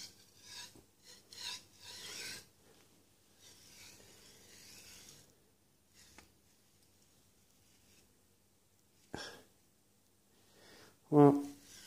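A cheap linear bearing without grease slides along a steel shaft, giving several faint, dry scraping rasps in short bursts with quiet gaps, followed by a brief sharper scrape near the end.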